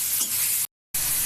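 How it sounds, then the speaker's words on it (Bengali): Prawns hitting a hot pan for sautéing burst into a loud, close, hissing sizzle, which cuts out briefly to silence and then resumes just as strongly. "আমি এখন চিংড়ি মাছ দিয়ে দেবো।"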